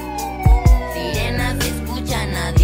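A police siren effect in a Latin urban music video, a wailing tone sliding through the mix alongside heavy bass kicks and the beat, loud and up front.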